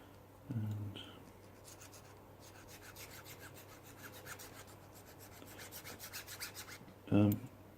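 Fine scraping of a file on the corner of a guitar nut for a Les Paul kit, quiet and close in rapid repeated strokes, with a couple of louder knocks at the start and end.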